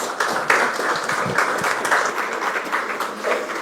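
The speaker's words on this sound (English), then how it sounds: "Please give a big round of applause" An audience at a game-industry startup event applauds the speakers with a dense, continuous wash of many hands clapping that holds steady throughout.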